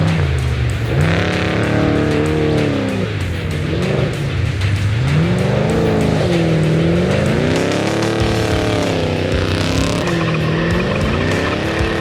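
An off-road race vehicle in the Vegas to Reno desert race accelerates hard, its engine loud and close, revving up and down in repeated swells over a constant roar of wind and drivetrain noise, with no talking.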